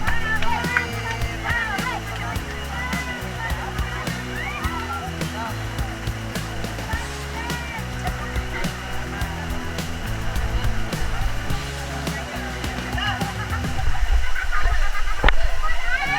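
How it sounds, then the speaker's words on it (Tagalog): Water splashes and rushes at a pool resort with two small waterfalls and a jacuzzi, a steady broadband wash under continuous voices and music that swells louder near the end. "Waterfalls yan, dalawa oh. Isang waterfalls"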